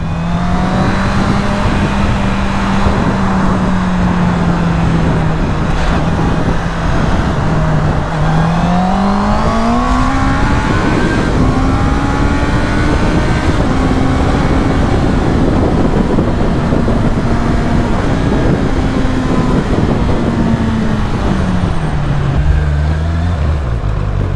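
A Honda CB650 four-cylinder naked motorcycle is ridden, its engine a loud, continuous drone that holds steady, then climbs and eases in pitch as it accelerates, with constant wind and road rush.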